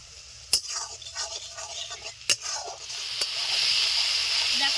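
Turmeric-coated spices frying in oil for a Bengali bata fish jhalda, a steady hiss that builds toward the end, broken by a few sharp clinks of a utensil against the pan.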